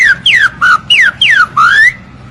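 A pet parrot whistles an imitation of a trinca-ferro song: six loud, clean sliding whistles in rapid succession, mostly falling in pitch with the last one rising, up close with little else audible.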